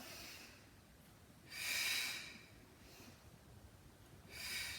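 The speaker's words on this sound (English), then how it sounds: "Inhale here, exhale." Two or three forceful, breathy exhales during a Pilates session with a ball and mini band, each a soft rushing burst of air, close and moderately loud, separated by quieter breathing.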